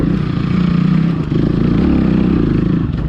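A Hero XPulse 230 motorcycle climbs a hidden technical dirt trail in low gear, its engine a loud, steady close-up chug with some clatter and no talk over it.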